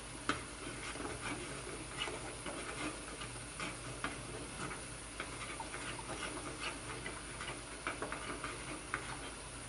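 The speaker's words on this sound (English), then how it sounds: "you simply stir the cheese into the cream sauce" Cheese being stirred into a cream sauce for a broccoli and cheese casserole: soft, repeated spoon scrapes and light ticks against the pot over a faint steady sizzle, close and quiet, with no talking.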